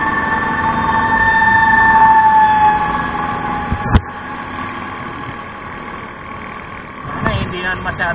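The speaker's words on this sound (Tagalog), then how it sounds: "Ayan, ang daming dumadating na mga fire truck." Fire truck sirens wail with steady tones and an idling engine at a market fire, sharp clatters punctuating the scene, loud and close with background street noise.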